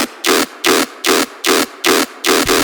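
Main lead synth patch for a heavy riddim dubstep track: a gritty, hissing, wide-band growl chopped into a steady repeating rhythm of seven loud bursts.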